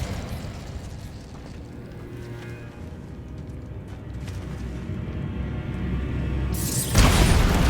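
The Bombarda blasting spell in Hogwarts Legacy goes off as a sudden loud burst near the end, after a stretch of low rumbling game ambience that builds gradually.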